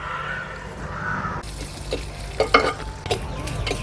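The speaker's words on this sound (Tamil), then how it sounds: "எண்ணெய் சூடானதும் கடுகு வெந்தயம் காஞ்ச மிளகு கருவேப்பிலை வெந்தயம் கண்டிப்பாக போட்டுக்கோங்க" Mustard seeds, fenugreek, dried chilli pepper and curry leaves sizzle and crackle in hot oil over a wood fire, with a steady fry and sharp pops and stirring scrapes close by.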